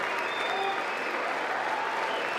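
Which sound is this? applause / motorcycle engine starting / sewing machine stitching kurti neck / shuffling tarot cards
applause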